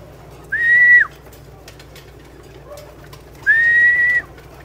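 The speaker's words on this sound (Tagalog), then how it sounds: "Ito na yung mga ibon ko, mga kalapatids." Two short whistled pigeon calls, each under a second, separated by a pause over faint background hum.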